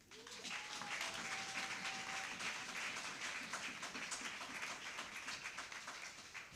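A church congregation at a Sunday service claps in a dense, sustained wave of applause with some cheering, steady and loud throughout, a brief tonal note sounding near the start.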